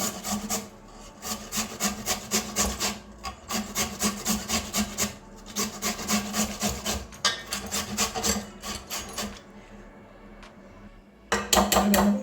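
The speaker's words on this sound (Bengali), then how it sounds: "আমার সবটা আলু ঘষে নিয়েছি এভাবে একদম ঝিরিঝিরি করে হয়েছে পাতলা" Potatoes being grated finely into thin shreds for Bengali aloo kofta, a steady rhythmic rasping in repeated bursts of strokes with brief pauses, close and fairly loud, no talking.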